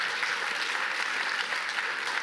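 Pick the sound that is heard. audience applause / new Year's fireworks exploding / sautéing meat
audience applause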